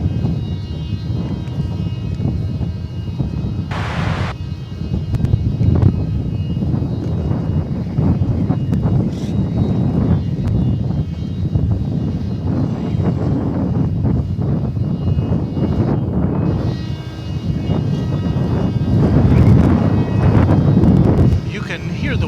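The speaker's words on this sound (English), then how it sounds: "You can hear the wind." Steady wind rushing and buffeting across a microphone at night at DFW Airport, a continuous loud low roar with gusts, broken by occasional brief bursts of higher noise.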